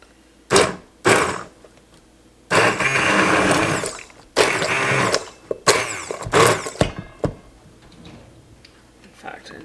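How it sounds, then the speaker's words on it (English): Bursts of a motorized whirring blender start and stop several times, loud and close, with brief pauses and some clatter between runs. "And an immersion blender works wonders."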